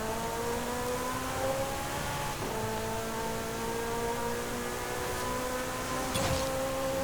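A 2023 Porsche 911 Rallye driven at speed in Forza Horizon 5 gives a steady, sustained engine drone with gear-shift dips, running alone throughout.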